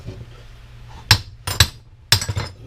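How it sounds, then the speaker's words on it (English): Three sharp, ringing hammer blows strike metal parts of a Ryobi electric power washer during scrapping, spaced about half a second apart, close and loud with brief metallic clinks trailing each hit. "All right, I got the other hammer."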